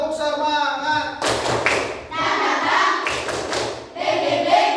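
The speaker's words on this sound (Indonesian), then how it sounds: "Nah, coba tepuk semangat." A primary-school class performs a rhythmic clap chant, groups of sharp hand claps in bursts alternating with children's chanting voices, close and lively in a classroom.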